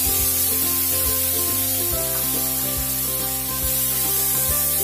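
Finely chopped onions hit a hot pan of oil and crushed roasted garam masala for Mughlai chicken, giving a loud, continuous hissing sizzle with stirring, under a bed of steady tonal music.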